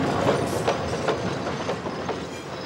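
A Montreal metro subway train runs with a steady rumbling roar and faint rhythmic wheel clatter, loud and continuous with no voices.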